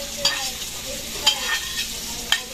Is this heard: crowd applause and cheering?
no